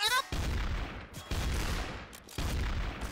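Gunfire in the Trouble in Terrorist Town video game: three loud bursts of rapid shots in quick succession, each ringing briefly before the next.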